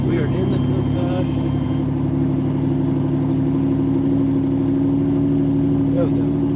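The engine of a Lamborghini Countach hums steadily from inside the car while driving, a constant low drone throughout as a person talks over it.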